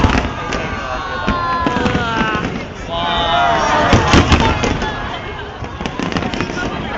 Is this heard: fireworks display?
yes